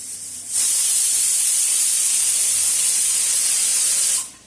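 A pressure cooker cooking rice on a stovetop lets out a loud, continuous steam whistle. The sharp hiss starts suddenly, holds steady for about three and a half seconds, then cuts off, very close with no voices.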